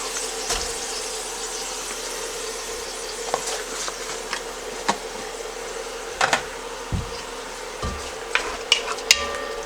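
Onions and garlic searing in a pan with a splash of chicken broth for chicken noodle soup, a steady close sizzle broken by occasional spoon taps and scrapes, no voices.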